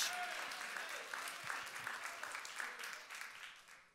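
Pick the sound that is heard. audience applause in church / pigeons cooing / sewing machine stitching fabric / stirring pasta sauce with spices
audience applause in church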